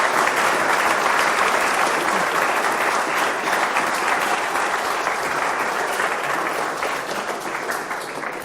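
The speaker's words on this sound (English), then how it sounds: "let's get a big round of applause for our presenters" An audience at an evening studio presentation event claps loudly and steadily for presenters, a dense wash of applause that fades slightly toward the end.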